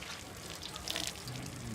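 Water runs and splashes steadily while a Toyota Fortuner is washed. The sound is a quiet, continuous hiss of flowing water, with faint, indistinct talk in the background.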